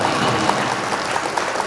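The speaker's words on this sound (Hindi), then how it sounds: "एक बार जोरदार तालियों से आप उनको आवाज दीजिए" An audience at an All India mushaira claps for a poet, a brief dense burst of applause that stays steady and moderately loud throughout, heard from within the crowd.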